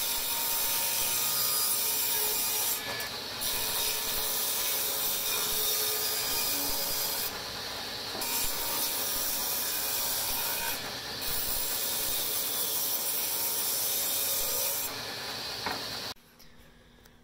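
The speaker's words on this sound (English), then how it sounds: "So the reference side being cut by the blade should be fairly straight." A table saw blade rips along a wooden board held against the fence, part of making board game piece holders; a steady, loud hissing whine of cutting runs continuously for about sixteen seconds, then stops abruptly, leaving quiet.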